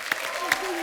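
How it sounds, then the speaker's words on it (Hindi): Studio audience applause greets guest Milap on The Kapil Sharma Show, a short burst of clapping with a couple of sharper peaks, heard with a voice over it. "जोरदार तालियां मिलाप के लिए।"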